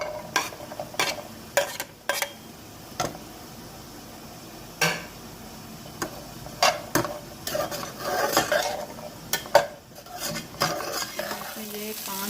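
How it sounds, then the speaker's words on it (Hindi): Okra frying in a small amount of oil sizzles steadily in a pan, broken by frequent sharp clinks and scrapes of a spatula stirring against the metal, close and clear with no talking. "अब हम इसमें भिंडी फ्राई करेंगे"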